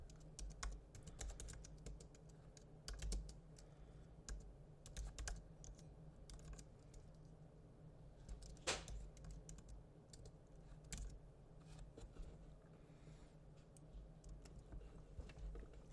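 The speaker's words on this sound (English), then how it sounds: "We are just going to type something random." Someone types steadily on a computer keyboard during a web design session, producing quiet rapid key clicks in irregular bursts, with a few sharper louder taps, close up against a low background hum.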